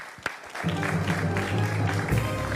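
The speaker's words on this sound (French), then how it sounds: "On va l'applaudir encore très fort, s'il vous plaît" A TV show audience applauds a performer, steady and fairly loud, with a low sustained crowd murmur underneath after a brief quieter start.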